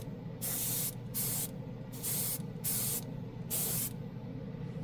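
Chrome paint sprayed from an aerosol can in five short hissing bursts of about half a second each, evenly spaced, close and fairly loud, with no talking.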